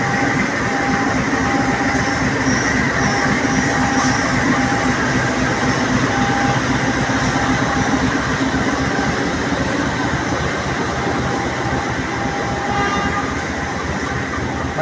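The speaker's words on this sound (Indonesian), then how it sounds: "Ini lokomotif yang akan menarik kereta kita ini" A diesel locomotive of the KA Bukit Serelo train idles at a station, a steady loud engine drone and hum filling the whole stretch, with faint voices underneath.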